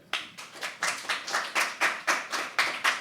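Audience members at a live poetry open mic clap slowly and in unison, about a dozen evenly spaced claps at a steady, fairly quiet rhythm.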